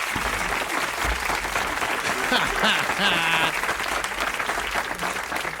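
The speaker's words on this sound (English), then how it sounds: "Let's give my man Joe a big round of applause." Sustained applause from an audience at a live music show, steady and dense throughout, with a voice calling out over the clapping midway.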